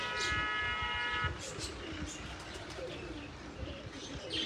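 Pigeons coo softly over a busy, noisy outdoor background, with faint chirps mixed in and a steady hum throughout.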